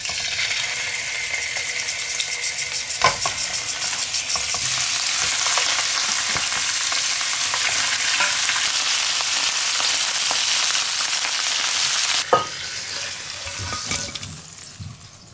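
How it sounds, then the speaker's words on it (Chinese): Pieces of snakehead fish sizzle in a hot pan, a steady loud crackling fry broken by a couple of sharp clatters as the pieces are moved, with no talking. "下面我们把黑鱼放到锅子里，给它煎一下"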